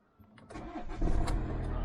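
A diesel car engine cranks and fires, building from a brief starter whirr into a steady, loud idle rumble nearby.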